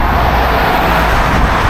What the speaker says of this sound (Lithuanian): Taip motociklai važiuoja.